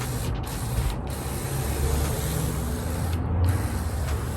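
Solo handheld battery-powered sprayer misting liquid from a multi-use bottle, a close, steady hiss of spray over a low motor buzz, with short pauses in the spray and no talking.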